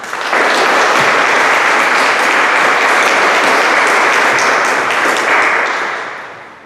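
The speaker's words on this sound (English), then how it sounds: "applause, please." An audience gives sustained, loud applause at the Champlain Fire Department's fire station ribbon-cutting ceremony, with dense clapping holding steady for several seconds before tapering off at the end.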